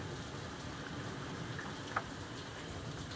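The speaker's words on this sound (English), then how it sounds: "Rain's coming down in sheets." Heavy rain pours down steadily during a thunderstorm, a dense, even hiss with no talk and one brief tick near the end.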